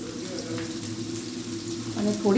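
Cabbage, ginger and corn frying in a pan for Manchurian, with a steady close sizzle and a burst of stirring at the end while a voice talks faintly underneath.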